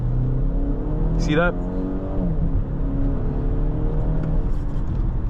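2024 BMW X1 xDrive28i M Sport accelerating with its paddle-activated boost, a steady engine drone rising in pitch inside the cabin as someone speaks briefly over it.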